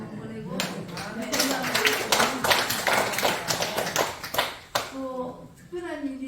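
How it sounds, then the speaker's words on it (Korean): A church congregation at a worship service in a National Assembly prayer room claps together in a dense, sustained burst of applause for about four seconds, then it breaks off and a voice resumes speaking. "박수 한번 보내고"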